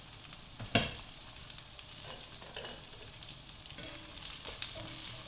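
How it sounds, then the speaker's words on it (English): Vegetables for Hokkien mee fried noodles sizzle in a hot pan with steady frying crackle and occasional scraping stirs, close and fairly quiet, no voices. "so we'll give this a fry for a minute"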